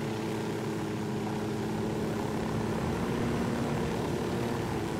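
A helicopter in the video game Ghost Recon Wildlands gives a steady, dense engine and rotor roar, loud and continuous throughout with no pauses and no speech.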